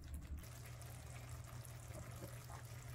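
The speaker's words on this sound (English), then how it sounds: "I've drained my pasta noodles" Boiled pasta noodles being drained in a home kitchen, a steady soft rush of pouring water that runs continuously and fairly quietly with no talk.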